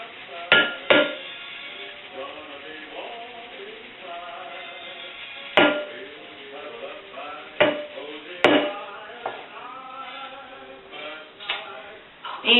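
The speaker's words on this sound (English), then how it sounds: "you put your cornstarch in the bowl, and you mix them up as good as you can" Bath bomb powder and cornstarch are stirred together in a bowl, with sharp clinks and knocks of the utensil against the bowl scattered irregularly over a quiet background.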